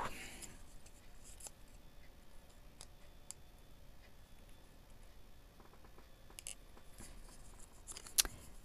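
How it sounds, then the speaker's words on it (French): Scissors snip through paper while a cozy winter card is being made. The snips are faint and sparse, with a few soft clicks in a quiet room and one sharper snap near the end, and no talking. "Ciseaux."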